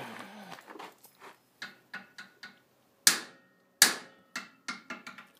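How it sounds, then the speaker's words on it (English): Metal tab on a junk-built UTV side-by-side being hammered and folded over, a run of sharp, close metallic strikes at an uneven pace, with two especially loud ringing blows near the middle. "I'm just going to fold that around rather than cut it off"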